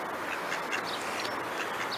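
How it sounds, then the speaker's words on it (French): Several ducks quack repeatedly over a steady outdoor rush along the riverbank in Cahors, the calls moderately distant and scattered through the whole stretch. "qu'on a l'occasion d'écouter les canards"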